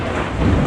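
A loud, close rumble of thunder from a lightning storm rolls in over steady rain, filling the whole brief moment with broadband roar and no talking.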